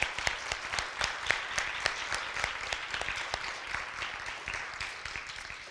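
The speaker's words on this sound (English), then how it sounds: "Let's give them a round of applause." Audience at a student music recital claps in a sparse, uneven patter, with a few louder individual claps standing out and the applause slowly fading, fairly distant.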